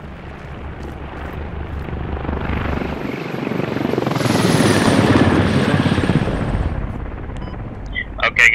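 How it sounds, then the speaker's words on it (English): Helicopter rotor thumping steadily and swelling louder through the middle, mixed with game battle noise and a few sharp bursts near the end. "we're getting in the helicopter"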